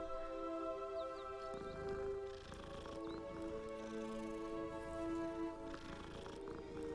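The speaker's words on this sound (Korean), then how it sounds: "그르릉거리네. 기분 좋대요 고양이가." A video-game cat purrs softly and continuously at close range, a low rumbling drone layered over quiet, steady in-game music tones.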